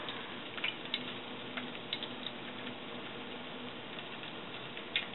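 A steady, dense crackle and sizzle of floured, buttermilk-dipped meat frying in hot fat in a skillet, with occasional louder pops, continuous and fairly close.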